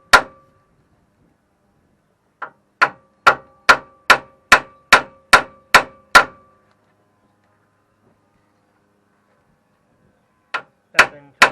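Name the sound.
hammer striking vehicle axle parts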